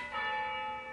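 Church bell ringing in a brief, sustained tone with a bright ringing overtone, moderately faint and alone.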